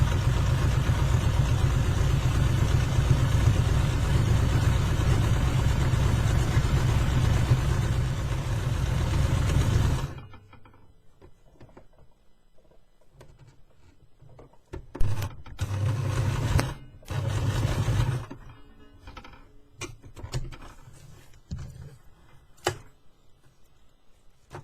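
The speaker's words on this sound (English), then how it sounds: "I've got a long stitch on this brother sewing machine" A Brother sewing machine set to a long stitch 10 with ordinary thread runs loud and steady through paper fabric for about ten seconds, then stops, followed by several shorter bursts of stitching separated by quiet pauses.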